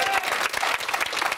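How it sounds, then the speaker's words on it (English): Dense, steady applause from a studio audience at a Celebrity Big Brother UK 2014 companion show, with many hands clapping continuously and fairly loudly throughout the short stretch. "Give them a round of applause."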